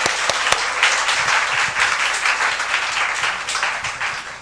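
A Korean church congregation at a Sunday service breaks into warm, sustained applause to welcome a visiting member. Many hands clap in a thick, close wash, opening with a couple of distinct sharp claps.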